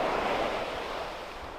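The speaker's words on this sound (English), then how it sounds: "It's one of the most gorgeous beaches in Taiwan." Ocean waves at Chichingtan beach in Taiwan wash in a steady, breathy surf roar, close and continuous, with a touch of wind noise.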